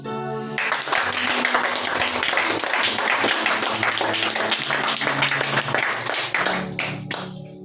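A church congregation in Abengourou applauds and acclaims God, with dense sustained clapping mixed with cheering voices that fills the whole stretch before tapering off near the end.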